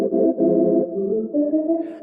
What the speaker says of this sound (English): I put on a 16 and 8 organ flute